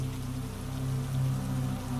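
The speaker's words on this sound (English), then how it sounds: "immediately the sound of rain changes around you" Rain patters on stone at a mountain monastery, a dense, steady fall of drops over a low, constant background hum, with no voices.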